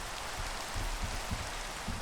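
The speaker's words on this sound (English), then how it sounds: "I wish it wasn't freaking raining." Rain falls in the Minecraft video game, a steady hiss of rainfall with a few soft low thumps and no voices.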